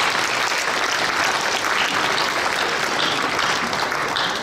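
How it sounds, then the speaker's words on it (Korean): Warm, steady applause from a church congregation at a retired pastors' appreciation service, a dense even wash of clapping that holds at constant loudness throughout. "종무님한테 우리 뜨거운 박수로."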